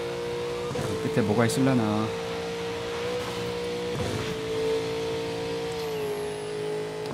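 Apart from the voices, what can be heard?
car engine driving in the video game Burnout Paradise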